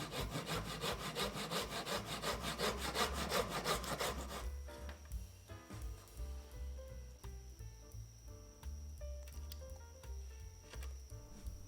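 A hand saw cuts wood for a handmade wooden Gundam model in rapid, even rasping strokes, loud and close for about four seconds. Quieter scraping and shuffling follow.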